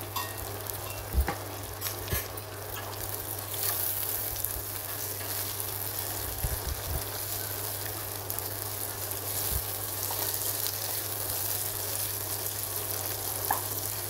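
Onions frying in oil in a pan on a home stove for a lemon dal, a soft steady sizzle with occasional light clinks of stirring, moderately quiet and continuous without talk.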